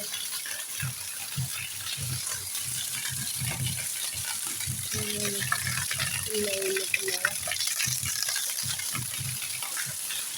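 Rainwater being cleared off a kitchen roof during heavy rain, with steady splashing and rhythmic pushes of water close by, under voices talking throughout.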